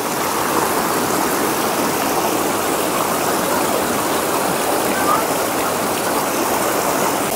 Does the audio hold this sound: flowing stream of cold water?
yes